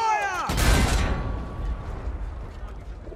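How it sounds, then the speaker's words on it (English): Artillery fire in the Battlefield 1 video game: a single loud, deep boom erupts and then rolls away into a long rumbling decay. "All artillery! Fire!"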